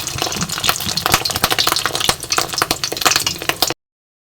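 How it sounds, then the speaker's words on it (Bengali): Fish roe fritters frying in hot oil give a loud, close, crackling sizzle with rapid pops and spatters throughout, then it cuts off abruptly to silence; no one speaks. "দেখো ডিম ভাজা হয়ে গেছে এরকম করে হালকা"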